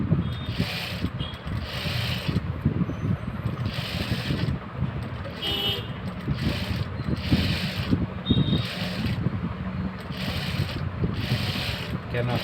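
A sewing machine stitching canvas for a designer blouse runs in repeated bursts of rapid mechanical clatter separated by short pauses. It is close and fairly loud, and no one speaks.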